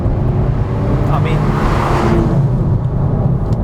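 Porsche 911 engine droning steadily as the car drives, a loud continuous low rumble with road noise, rising slightly under load midway, while a person talks over it.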